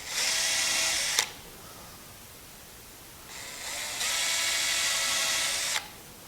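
A power drill boring holes into box-store construction lumber for a table, two sustained high whining bursts, the first about a second long ending in a sharp click, the second longer and rising in pitch midway, close and loud.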